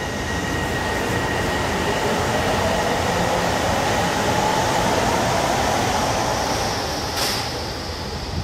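A train rumbles steadily past at close range, a continuous heavy roar of wheels on rails that swells slightly and then eases off.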